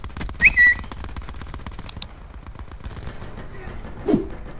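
Titan gun firing in Call of Duty, a rapid stream of close, sharp shots running steadily under busy game noise, with brief whistling tones near the start.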